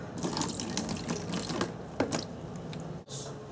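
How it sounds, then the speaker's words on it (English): Water runs and splashes steadily into a container of paint, with small clinks and a brief pause near the end. "then put in some water"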